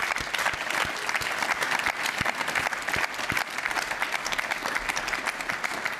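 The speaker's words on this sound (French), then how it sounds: "Sous vos applaudissements, là encore." An audience at the Vendée Globe prize ceremony in Les Sables d'Olonne claps steadily and warmly, a dense, even applause with a few louder individual claps, and no talk over it.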